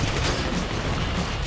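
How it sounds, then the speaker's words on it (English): Dense, continuous gunfire from a Grand Theft Auto 5 shootout, rapid overlapping shots forming a steady loud barrage with no talk over it. "You hear that gunfire?"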